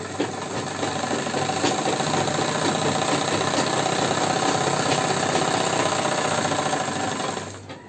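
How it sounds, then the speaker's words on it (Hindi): An electric sewing machine stitching fabric with a canvas backing for a mohri, a steady, loud, rapid mechanical chatter that runs without a break and stops abruptly at the end. "हम एक सिलाई लगा देंगे।"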